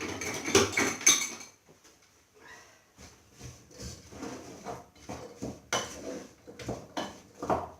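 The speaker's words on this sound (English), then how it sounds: "Now give that a stir." A spoon clinks and scrapes against a pan while chopped vegetables are stirred for tomato soup, in a close, irregular series of knocks and rattles with quiet gaps between them.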